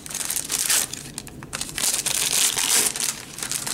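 Foil wrapper of a Dare to Tear hockey card pack being ripped open, close crinkling and tearing bursts with a brief pause in the middle.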